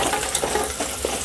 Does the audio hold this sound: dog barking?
no